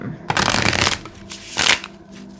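Two bursts of tarot cards being riffled and shuffled at close range, a longer one then a shorter one, with no talking.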